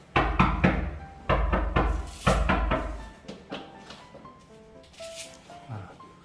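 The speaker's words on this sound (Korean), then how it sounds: "아무도 없는가 하는데 노크를 하네요." Several sharp knocks on a door at a rented home in Da Nang, Vietnam, a quick loud cluster of raps near the start followed by a few more, with household clatter after.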